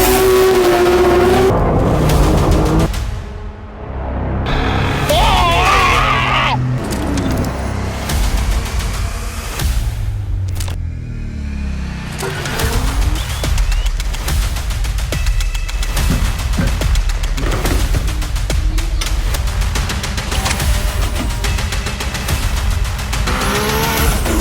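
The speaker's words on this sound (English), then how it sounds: "We're taking the black R33 out on the road and we're going to be seeing how she drives and how she performs." Black Nissan Skyline R33 GTR driven hard on a public road, its engine revving and accelerating loudly with gear changes and brief tire squeal, close and continuous with no talking.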